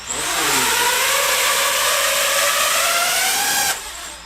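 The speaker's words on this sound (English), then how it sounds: "Let me see if I can control the throttle to bring it into a hover." A small drone's motors throttle up on AA batteries, a loud, close, rising electric whine that climbs steadily in pitch for several seconds, then drops abruptly as the power cuts out.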